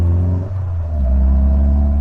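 A Caterham Academy road-legal race car's straight four-cylinder engine rumbles loudly up close, its note dipping briefly before the revs climb and settle into a deep, sustained drone.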